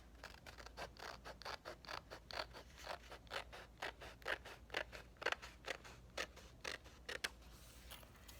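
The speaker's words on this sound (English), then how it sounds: "Now I can use scissors to cut off the extra paper at the bottom." Scissors cutting off excess paper: a quick, regular series of about twenty crisp snips, close and quiet, with no talking.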